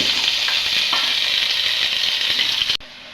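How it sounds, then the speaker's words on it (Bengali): Potato pieces fry in hot oil in a cooking pot, giving a loud, continuous close-up sizzle with faint crackles that cuts off abruptly near the end. "এখানে আমি কয়েক টুকরো আলু ভেজে নিচ্ছি"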